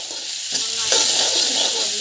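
Garlic and onion sizzling loudly in a hot pan for mango chutney, a continuous close crackle with a stirring scrape partway through.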